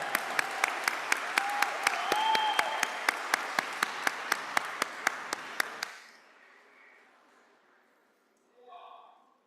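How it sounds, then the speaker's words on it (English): An audience at a school district address applauds student performers, a thick burst of clapping with a sharp rhythmic clap or beat pulsing through it and a brief cheer, then it stops abruptly, leaving quiet room tone and a faint voice. "one more big round of applause for our amazing performers from Valentine"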